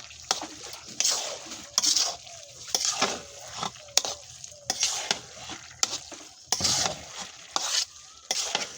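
Masala being stir-fried (bhuna) in a pan on a stove, with repeated scraping stirs over a steady close sizzle and occasional clinks of the spoon against the pan.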